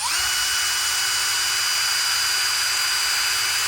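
A power tool spins with a steady, loud high-pitched whine while backing T25 screws out of the nose cone of a Hyper Tough impact wrench, continuous and alone for a few seconds.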